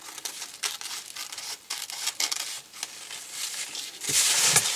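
A sheet being cut off a roll of material, with close crinkly rustling and irregular snipping and tearing bursts, ending in a louder sustained crumple.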